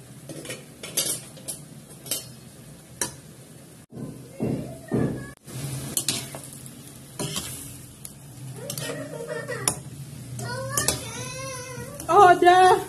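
Vegetables with purple cabbage sizzle in a pan for bihon noodles while a utensil stirs and scrapes in bursts, with taps against the pan; a person talks throughout.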